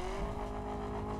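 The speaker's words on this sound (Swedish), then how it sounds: "Det var varvstoppet." A car engine in The Crew racing game sits at high revs against the rev limiter, a loud sustained buzzing drone with a steady pitch over a short stretch.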